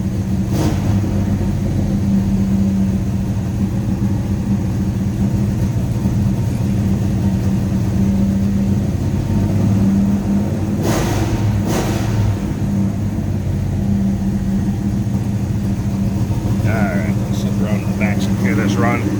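A 1969 Dodge Charger's engine runs at a steady, slightly high idle with the choke being set, a continuous close rumble across the whole clip, with a few brief clicks and a short higher-pitched sound near the end.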